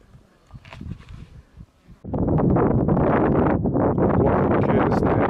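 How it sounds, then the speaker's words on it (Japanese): Wind gusting across an open mountain slope on Mount Zao in summer, starting as soft buffeting, then a steady loud roar against the microphone for the second half. "ちょっと風吹いてますけど"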